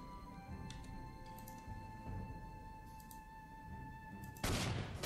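Gunfire in the World War II strategy game Panzer Corps 2, with a few faint shot crackles over a steady tonal hum, then a loud sudden burst near the end.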